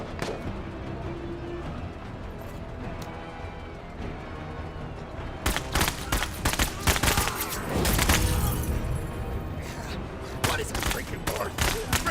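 Rapid gunfire from a crocodile rifle in the video game Menace, dense bursts of shots at close range that start partway through and keep crackling loudly over a busy battle backdrop.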